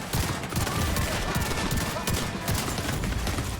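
Rapid shotgun blasts ring out from an SASG-12 semi-auto shotgun in The Division 2, a dense burst of loud close shots mixed with other gunfire and game effects, with a voice talking underneath.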